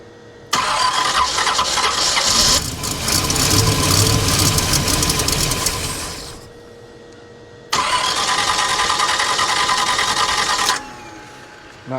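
A 1969 GMC truck with a quiet exhaust, sitting unused for 30 years, cranks in two bursts of a few seconds each, churning and sputtering loudly up close without fully catching.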